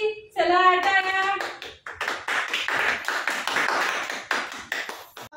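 A small household group claps for the winner of a family game, with a brief voice at the start followed by a few seconds of brisk, close applause.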